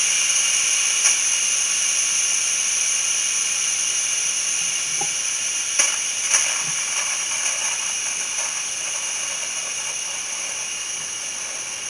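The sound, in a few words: steam released from a turbo cooker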